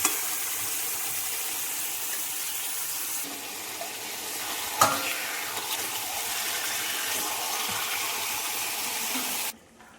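Marinated chicken is added to onion, ginger and garlic masala frying in a pan for Kolkata-style dum biryani, giving a steady, loud broadband sizzle with one sharp clatter midway before it cuts off abruptly.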